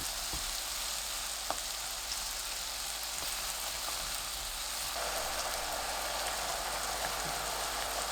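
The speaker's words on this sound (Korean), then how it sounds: "팬에 무염버터 40g, 새송이버섯 넣고 중불로 버섯을 구워주세요." King oyster mushrooms fry in unsalted butter in a pan over medium heat, giving a steady, soft sizzle throughout with a few faint clicks and no voices.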